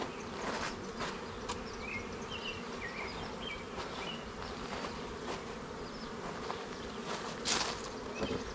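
Honeybees buzzing around a hive during a move from a swarm box, a steady dense drone of many insects close by with no voices.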